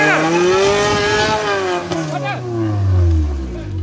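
A Maruti Gypsy off-road vehicle revs hard while stuck in mud, its engine note climbing and then dropping into a low, loud growl, close by and under people's voices.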